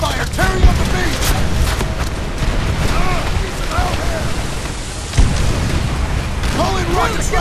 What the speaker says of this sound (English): We got heavy MG fire tearing up the beach.